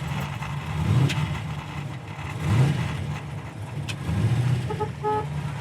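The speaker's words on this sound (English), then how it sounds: "Horn works" A 1966 Chevrolet Impala SS sounds its horn in a few short toots that come through faintly over low engine idle and background noise.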